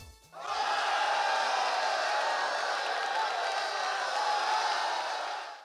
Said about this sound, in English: They have a specific cheering sound effect,